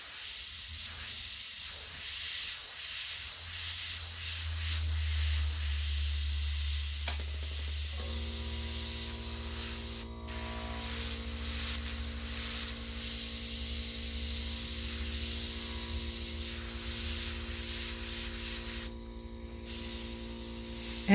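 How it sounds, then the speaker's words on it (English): An airbrush sprays plain air with no paint onto fabric during a watercolor-effect painting session, giving a steady, close hiss over a low mechanical hum, with two short breaks in the airflow. "what you can do with the airbrush is just, without using paint, just blow some air in there"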